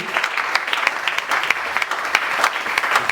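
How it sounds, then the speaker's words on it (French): An audience applauding loudly at a church seminar, a steady patter of many hands clapping close by, with a faint voice beneath. "Acclamez très fort,"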